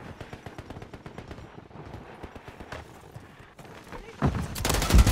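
Gunfire in Call of Duty Modern Warfare 3 gameplay: rapid, regular bursts of shots that grow into a loud, dense volley near the end, with game voices calling out in the mix.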